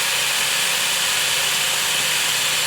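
A loud, steady high-pitched whine and hiss of a small chainsaw running continuously close by, with no pauses or speech.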